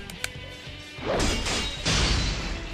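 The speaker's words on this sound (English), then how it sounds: "I repel 24's persistent sword strikes and go for a counterattack." A battle axe crashing against a great sword in the Persona 4 Arena fighting game, a few quiet taps and then two loud, heavy metallic smashes in quick succession.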